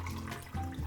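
Morel mushrooms being washed in water: a brief close rush of running, splashing water, steady and fairly quiet, with no talking.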